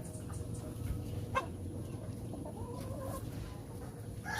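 Gamefowl rooster on a free-range farm, clucking faintly with a few short calls over quiet background hiss.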